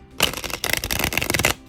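A stiff new tarot deck is shuffled by hand close up, giving two bursts of crisp riffling and flapping card noise separated by a brief pause.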